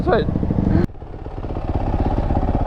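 A Yamaha YZ450 dirt bike engine chugs in a steady, rapid idle nearby, briefly masked at the start by a loud voice.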